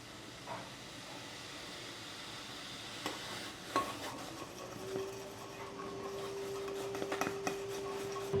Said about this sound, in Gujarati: ચાયને પણ મિક્સ કરી દઈએ, નકર બધી ચાય બહાર આવી જાય